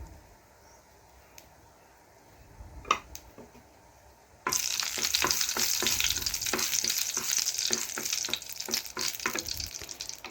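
A dried bay leaf, nigella seeds and dried chillies hit hot oil in a pan, setting off a sudden loud sizzle that holds steady, with scattered stirring clinks and scrapes. A few sharp taps come beforehand over a quiet kitchen hum.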